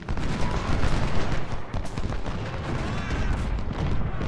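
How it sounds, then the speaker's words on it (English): Artillery fire in the Ultimate General Civil War video game: a dense, continuous rumble of cannon booms and volleys, loud and layered, some near and some distant, with no talk over it. "Heyman's artillery's causing us trouble up here."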